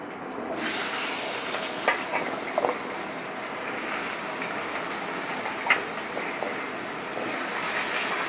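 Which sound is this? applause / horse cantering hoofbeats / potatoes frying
potatoes frying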